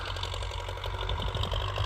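An MTZ 80 tractor engine running steadily while ploughing with a PLN 3-35 plough, a loud continuous mechanical drone with rhythmic pulsing, close and alone.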